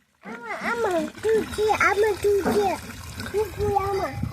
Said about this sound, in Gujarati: નળ ચાલુ કરી દો એટલે બધાય ઝાડવાને પાણી પવાઈ જાય